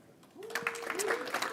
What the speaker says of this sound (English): Clap all the way until they get seated